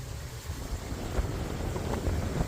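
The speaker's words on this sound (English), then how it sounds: "Boy, the wind's getting crazy out here." Strong wind blows outdoors at a farm consignment auction, a constant low roaring buffet with gusts swelling and easing against the microphone.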